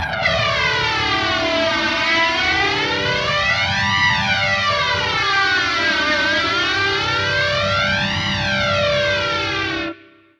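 Heavily distorted Mooer GTRS P800 electric guitar through its built-in effects processor, a Van Halen-style effect making the pitch swoop up and down like a siren, loud and continuous with no talking, then cutting off abruptly.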